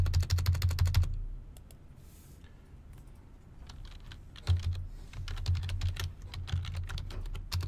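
Rapid keyboard typing, close and steady, with a pause in the middle before the clacking resumes in quick bursts.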